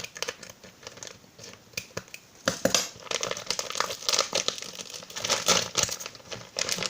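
Scissors cutting through Velcro fabric, a busy close crinkling and rasping with irregular snips and tearing-like scratches that grow denser toward the end.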